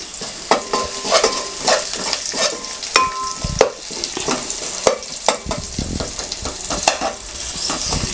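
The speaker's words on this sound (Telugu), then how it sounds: "ఇప్పుడు ఇందులో ఉల్లిపాయలు వేసుకుంటున్నాం కొంచెం వేస్తున్నాం ఉల్లిపాయలు" Onions fry and sizzle in a pan, a steady hiss broken by repeated scraping stirs and light clinks of a utensil against the metal, close and loud with no talking.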